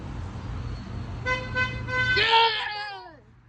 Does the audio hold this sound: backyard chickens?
no